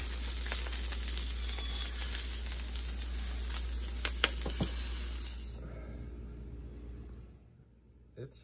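Food sizzles on a new Weber charcoal grill with a steady crackling hiss and scattered pops under a low hum, then fades sharply toward near silence at the end.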